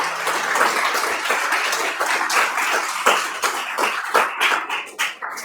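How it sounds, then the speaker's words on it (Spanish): An audience claps steadily for several seconds, a dense wash of many hands with a few sharper individual claps near the end. "Un fuerte aplauso para la doctora, por favor."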